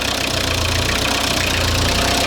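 A Volkswagen T3 van with a newly replaced engine idling and warming up after antifreeze has been filled, a loud, steady, close engine drone with a faint repetitive knock, no talking.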